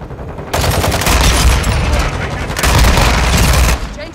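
An FTAC Siege rifle fires in a video game in two loud, rapid full-auto bursts at close range, split by a short lull.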